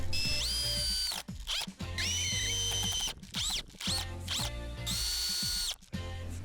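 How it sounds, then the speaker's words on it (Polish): A power drill driving screws into wooden beams set in anchors while framing a garden tool shed base, several whining bursts that rise in pitch and cut off in turn, with short pauses between, close and loud. "Ustawiłem w kącie prostym i przykręcam wkrętami do belek w kotwach."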